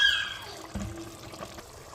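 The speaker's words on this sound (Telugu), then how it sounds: "నేను పావు సేరు నీళ్ళు పోసాను" Water poured into a fish curry in a pot, a short splashing pour that fades into soft trickling and a few faint drips, close and alone.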